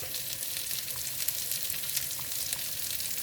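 Spices with asafoetida powder fry in hot oil, giving a steady close sizzle full of scattered small crackles and pops with no talking.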